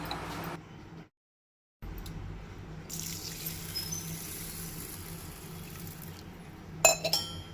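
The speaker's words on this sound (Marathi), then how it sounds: "1 ग्लास उकडे तांदूळ घेतल्या, ते 2-4 खेपो धुवन घेवपाक जाय" Parboiled rice is washed in water in a kitchen vessel, with close sloshing and running water, a brief silent gap, then faint clinks of grains and glass, no talk.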